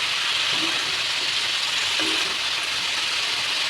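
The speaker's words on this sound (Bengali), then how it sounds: "লাউগুলো দিয়ে দিলাম, আস্তে আস্তে করে নেড়ে চেড়ে নেবো" Chopped bottle gourd sizzling in a hot pan while being stirred, a steady loud hiss with faint scraping under it and no talking.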